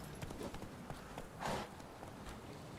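Horse hooves clip-clop at a quick, uneven pace in The Witcher 3, faint and soft, with a louder scuffing burst in the middle.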